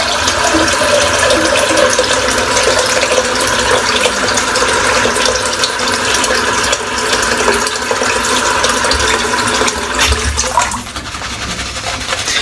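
Water from a sink tap runs in a loud, steady, close stream while shaving lather is rinsed away, with faint clatter underneath.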